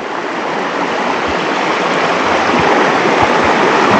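A steady, full rush of flowing mountain river water, continuous and close, with occasional low gurgles and no voices.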